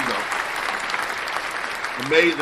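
Clapping for Rios during a talk show, a moderate patter of hands with voices mixed in, and speech rising clearly near the end.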